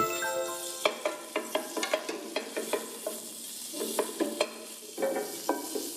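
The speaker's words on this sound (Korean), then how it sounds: "고기를 볶다가 고추장을 넣고 볶아주는 약고추장을 하겠습니다" Seasoned minced meat stir-fried with gochujang over medium-low heat, with a soft sizzle under repeated rhythmic spatula scrapes and taps against the pan, close by.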